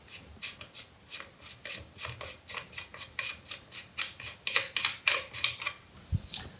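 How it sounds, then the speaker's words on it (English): A muzzle brake being unscrewed from the barrel of an Accuracy International AX rifle, giving a close run of short, evenly spaced rasping, ratchet-like clicks that grow louder toward the end, with no talking. "And take my muzzle brake off"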